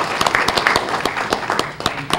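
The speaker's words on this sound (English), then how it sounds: "Round of applause for Brenda" Conference audience at a foreclosure ethics session applauding a participant, a mix of scattered hand claps rising and thinning over a couple of seconds, moderately loud and close, with no speech over it.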